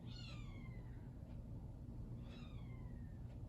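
A kitten gives two loud, drawn-out meows a couple of seconds apart over a steady low background hum, with no voices.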